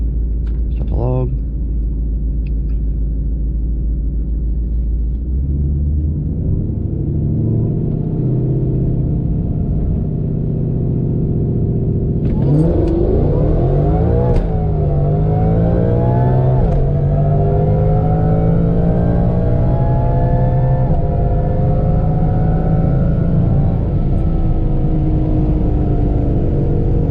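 A supercharged Gen 5 3.0 Whipple Mustang GT makes a quarter-mile drag run: a steady idle rumble builds into loud full-throttle acceleration with rising whine, upshifts and a sustained roaring pull, close by.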